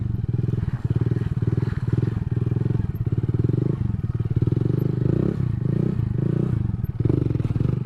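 A Honda Grom motorcycle engine during sit-down circle wheelies, close and loud, with a steady chugging single-cylinder drone that rises and dips as the throttle is worked, plus occasional scraping clatter.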